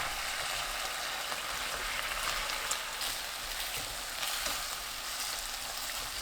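Leftover rice cakes hitting boiling sauce of oyster sauce and water in a tilted pan over low heat, a steady close sizzle and bubbling crackle throughout.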